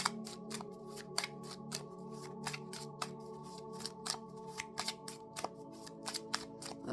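New oracle cards are shuffled by hand, close up, in a steady series of crisp slapping taps and papery rustles with no one talking.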